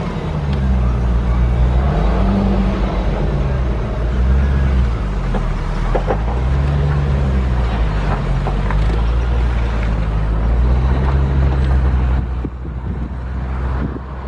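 A 2004 Chevrolet Corvette with a six-speed manual transmission pulls away and runs up through the lower gears. Its steady, loud engine drone rises and drops in pitch with each shift, close by, with no pauses in the sound.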